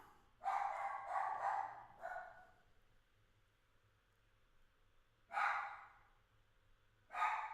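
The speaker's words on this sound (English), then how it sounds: "Excuse the dog." A dog barks indoors, a quick cluster of sharp barks followed by a pause, then two more single barks a few seconds apart, fairly distant and muffled.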